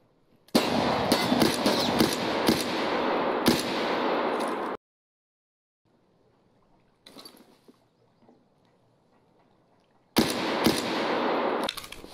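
Bursts of rapid gunfire in the shooter game Escape from Tarkov, loud and dense, then a long near-silent gap with a faint distant crackle before the shooting returns loudly.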